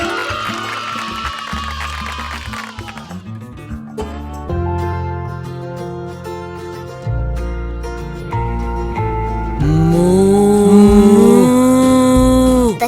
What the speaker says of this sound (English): Moo. The cow is very hungry.